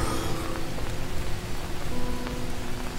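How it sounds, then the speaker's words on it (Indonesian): Steady rain in the jungle survival game Green Hell, a dense, even hiss of drops on surfaces with occasional brighter patters, continuous and fairly loud with no talk. "Hujan."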